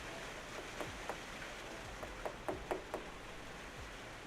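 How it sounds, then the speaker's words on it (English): Soft, steady rain hiss runs throughout while a scattering of light taps lands over it, the taps clustering near the middle, all faint and close with no talking. "There's rain and tapping sounds."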